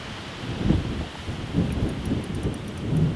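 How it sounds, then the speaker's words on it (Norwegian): Gusty wind buffets the microphone outdoors while fishing, a low rumbling roar that swells and fades in several bursts. "Jævla helvetes vind."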